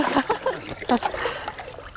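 Clean well water gushing and splashing out of a pipe at a homestead well, a few bursts of splatter close by with a voice in the background.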